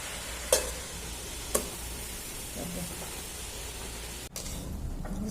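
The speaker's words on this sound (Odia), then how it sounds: "ଶାଗ ଭଜା ହେଉଛି।" Drumstick (moringa) greens fry in a pan with a soft, continuous sizzle, broken by two sharp stirring scrapes and a brief clatter near the end.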